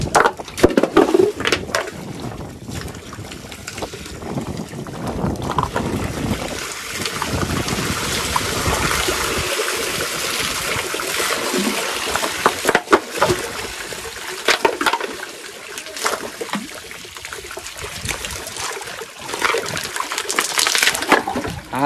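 Water rushing and gurgling out of a pond being drained for fishing, a steady broadband outflow with splashy surges that continues loudly throughout.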